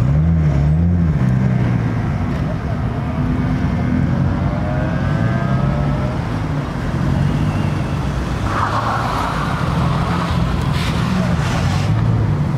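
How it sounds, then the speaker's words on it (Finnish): A Toyota Velfire van approaching, its engine a steady low drone with a rising and falling pitch as it draws near, loud and continuous under someone talking. "Siinä tosiaan meidän firman Velfire tulee"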